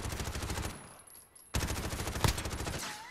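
Rapid automatic gunfire from a SOCOM-style gun in a competitive shooter video game, dense crackling bursts running steadily, dropping briefly before a sharp loud resumption with a heavy shot near the end.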